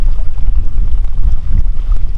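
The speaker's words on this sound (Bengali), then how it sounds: "আর জলের যে আওয়াজ শুনতে বেশ ভালো লাগছে" Water churning on a river at a ferry crossing in a remote Sundarban village, a close, continuous low rumble with boat-like wash and no voices.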